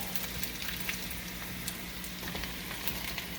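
Potatoes, onions and peppers frying in a pan, a steady close sizzle with dense crackling pops throughout, no talk.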